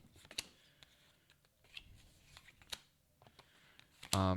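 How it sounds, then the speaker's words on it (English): A deck of Automa cards for the Wingspan board game is shuffled by hand, producing quiet scattered riffles and taps close up, ending in a louder burst of card noise. "shuffle Automa's deck"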